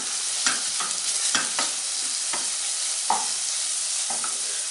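Garlic cloves frying in oil with carrots in a pot for chicken noodle soup, a close, steady sizzle broken by repeated spoon stirs and scrapes at irregular intervals, no voices.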